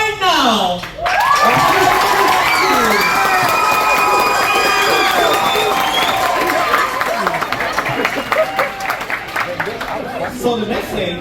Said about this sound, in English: Start clapping right now.